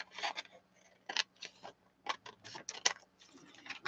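Scissors trimming a sheet of vellum paper at close range, a run of short crisp snips and slicing rasps in irregular bursts, fairly quiet with no talking.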